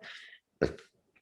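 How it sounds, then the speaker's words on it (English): A short breathy sound, then one abrupt, low, guttural burp close to the mic, followed by quiet. "You just burped."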